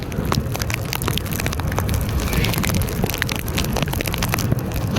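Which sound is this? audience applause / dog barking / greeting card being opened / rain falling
rain falling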